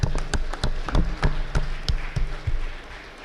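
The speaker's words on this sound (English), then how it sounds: "Folks, join me in a round of applause for the Bradley and the Hankins families." Scattered hand clapping from a small audience at a cattle production sale, sparse and uneven claps tapering off over a few seconds.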